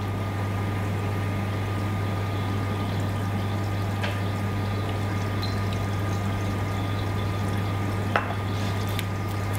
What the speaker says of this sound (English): Let me pour water.